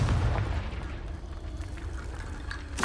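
A Confringo spell blast in Hogwarts Legacy on PS4, a loud, rumbling explosion that fills the whole moment with a dense boom and a rolling, crackling tail.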